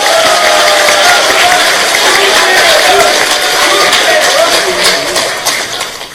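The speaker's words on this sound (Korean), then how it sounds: "박수 한번 세게 쳐주십시오." A crowd at a Korean political party rally claps hard and cheers, a dense, loud, continuous wall of applause mixed with voices that tapers slightly toward the end.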